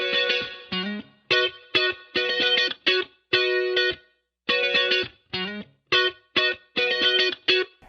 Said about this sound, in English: when they use their reverb, they're most of the time using some kind of spring reverb